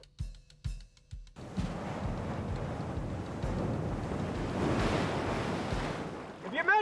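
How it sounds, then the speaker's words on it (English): Ocean surf roars in a broad, continuous wash that swells and ebbs, rising toward a louder crest near the end, after a few sharp knocks at the start. "If you measure these waves from crest to crest, I'd say they're about a good 10 meters apart."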